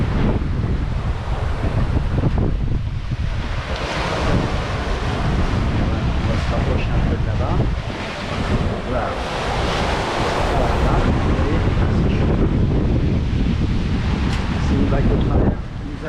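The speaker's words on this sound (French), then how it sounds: "après il y a toujours des séries de vagues" Ocean waves and strong wind aboard a sailboat on an Atlantic crossing, a continuous loud roar of rushing water and wind buffeting the microphone, with surging swells rising and falling throughout.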